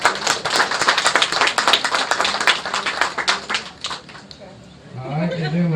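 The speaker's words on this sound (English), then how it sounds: "What y'all give him a big round of applause for that." An audience at a Labor Day lying contest at the Coon Dog Cemetery gives a storyteller a round of applause: steady, dense clapping that fades out, followed by someone talking.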